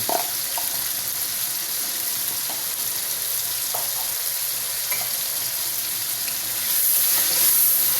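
Masala spices frying in oil for chickpea degi pulao, a loud continuous close sizzle with occasional soft stirring clicks, swelling slightly near the end, no voices.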